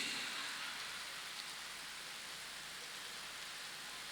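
Steady rain falls at an outdoor Halal Bihalal gathering, a continuous broadband hiss that holds evenly for the whole stretch, fairly close and with no talk over it.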